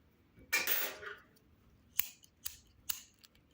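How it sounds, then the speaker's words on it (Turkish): Scissors snip through crochet thread after a chain stitch while making a crochet lace motif: one longer close cut followed by three short sharp snips, alone in a quiet room. "Sık iğne yaptıktan sonra bir tane zincir ipimi kesip koparıyorum arkadaşlar."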